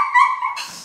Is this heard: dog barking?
yes